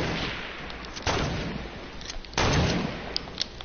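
Sniper rifle shots in a video game land as two heavy booming reports about a second and a half apart, each trailing off into a rumbling decay, with a few faint clicks afterward.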